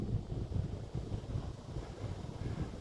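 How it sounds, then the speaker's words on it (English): Strong wind gusting over open pasture land near Medicine Bow, Wyoming, a continuous low buffeting rumble against the microphone, fairly loud and steady with no voices. "wind's blowing fairly good here, not like it was a while ago"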